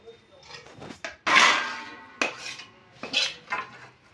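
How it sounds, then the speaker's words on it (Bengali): Mango pulp for homemade aamsatta is scraped and poured onto a metal plate, giving a series of sharp clinks and scraping clatters of utensil against metal, close and intermittent, with brief pauses between strokes. "এবার আমটাকে থালার মধ্যে ঢেলে দিই"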